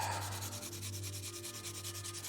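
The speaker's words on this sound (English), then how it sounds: "Let me sharpen it a little bit." A graphite pencil of H hardness is sharpened, giving a steady, close scraping rub with a rhythmic pulse as it turns against the blade, over a constant low hum.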